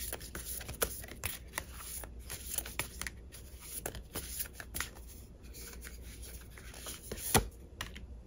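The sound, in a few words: shuffling tarot cards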